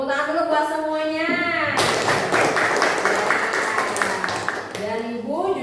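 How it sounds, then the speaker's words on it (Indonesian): A classroom of students bursts into loud hand clapping that runs for several seconds. Talk comes before it and returns as the clapping fades. "tepuk tangan dulu buat semuanya"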